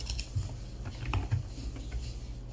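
Rapid clicking of a computer keyboard as text is typed into a Photoshop design, close and fairly quiet, with irregular key taps in quick succession and no voices.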